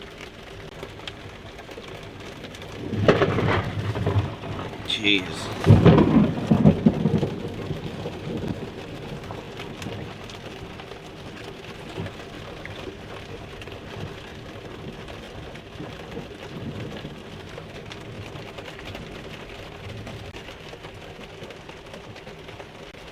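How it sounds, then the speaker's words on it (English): Heavy thunder rumbles and cracks near the start, then rain keeps falling steadily underneath; a voice briefly exclaims once. "rain's letting up a little bit, but lightning seems to be getting worse."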